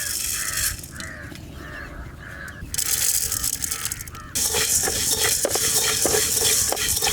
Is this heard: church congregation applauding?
no